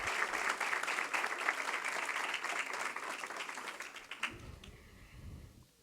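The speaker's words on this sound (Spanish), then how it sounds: "¿Por qué no le dan un aplauso, por favor," A church congregation applauds for about four seconds, a full steady round of clapping that then dies away, leaving a quieter room with faint low voices and movement.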